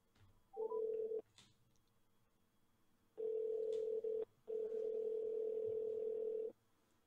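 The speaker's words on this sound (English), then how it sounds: "we're going to finish our phone call with Robbie Leach." Telephone dialing tones: a short beep burst followed by two long steady electronic tones with a brief gap between them, loud and clear, with no talk over them.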